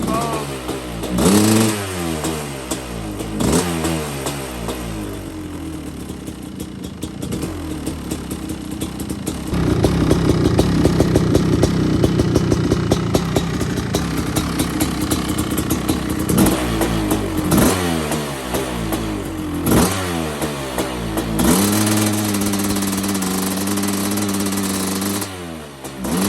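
Close and loud, a Kawasaki KX500 two-stroke motorcycle engine crackles at idle and is repeatedly blipped in sharp revs that will not rise cleanly. A longer, rougher, raspy stretch comes midway, and someone speaks briefly at times.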